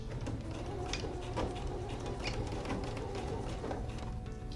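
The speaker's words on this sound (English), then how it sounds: "We're going to start with the back stitch." Sewing machine running a back stitch along a hem at a longer stitch length, a steady mechanical whir with rapid repeating clicks throughout, close and continuous.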